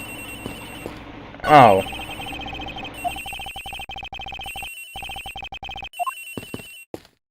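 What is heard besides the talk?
cell phone ringing in the Ace Attorney Investigations video game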